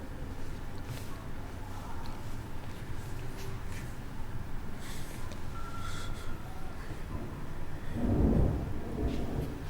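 Thunder rumbles through an ARG horror scene, a faint distant roll with a heavier, louder rumble near the end, and no voices.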